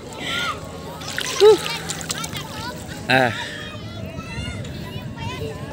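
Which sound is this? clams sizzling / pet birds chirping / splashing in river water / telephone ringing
splashing in river water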